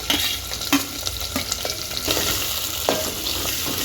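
Chopped onions and green chillies fry with cumin and mustard seeds in a pan, a close crackling sizzle broken by several sharp stirring scrapes and knocks of a spoon.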